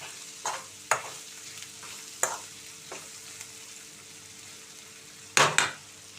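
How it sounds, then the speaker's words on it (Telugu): Ivy gourd (dondakaya) is stir-fried in a pan, a soft steady sizzle broken by several sharp scrapes and clinks of a spatula stirring against the pan, close by with no talking. "కాసేపు మళ్ళీ వేయించుకుందాం మధ్య మధ్యలో తిప్పుతూ ఉండాలండి"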